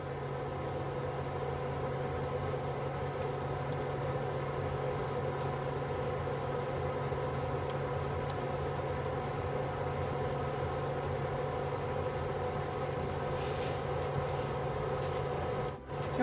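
A steady mechanical hum with a low drone and constant airy whir, an air fryer running at 350 degrees close by with no other sounds.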